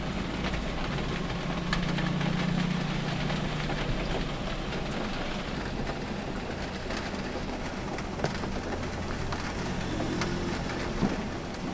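Heavy first-monsoon rain pours steadily in Satara while vehicles pass on the road, the dense downpour rumbling continuously throughout with engine noise mixed in and a couple of brief knocks.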